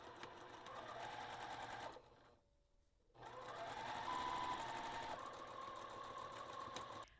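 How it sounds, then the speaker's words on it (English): A sewing machine topstitches a folded serged hem on a strapless shirred mini dress, two bursts of fast rhythmic whirring split by a second-long pause, close and fairly quiet, with no talking. "fold under that serge seam and then add a top stitch to it to create the final hem"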